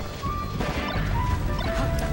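Down smash hitting in Super Smash Bros. Melee during a tournament match, Fox against Peach: a sustained loud crash and thwack of game effects with chiming tones, over crowd noise.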